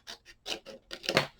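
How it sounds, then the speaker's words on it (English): Scissors snipping through paper for a Halloween craft cutout, a quick series of about six or seven close, crisp cuts. "Let's cut this out here."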